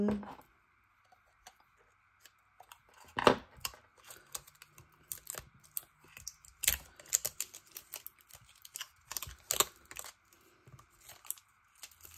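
A utility knife cutter slices through paper in quiet, close, irregular scraping strokes and sharp ticks, with bursts of crinkling paper spread across a long stretch.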